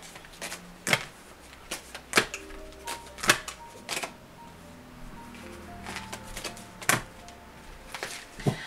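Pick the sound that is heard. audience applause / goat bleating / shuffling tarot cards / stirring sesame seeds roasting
shuffling tarot cards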